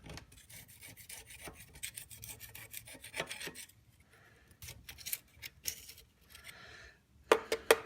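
Rough scratchy scraping of a putty knife pushing dirt off a surface, quick repeated strokes up close at moderate loudness, with a few sharper scrapes toward the end.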